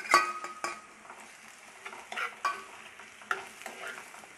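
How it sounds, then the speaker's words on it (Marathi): Finely chopped capsicum is stirred into browned onions in a frying pan, giving a soft background sizzle broken by several sharp spatula scrapes and clinks against the pan. "त्याच्यात आपण आता शिमला मिरची जी बारीक चिरली होती ती टाकून घेऊ"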